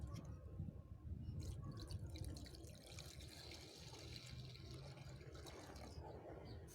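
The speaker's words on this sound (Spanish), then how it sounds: "Vamos a utilizar un chorrito de detergente y a esto le vamos a mezclar con agua." Water pours and splashes into a container of detergent to make bubble solution, a continuous close, gurgling rush with faint drips.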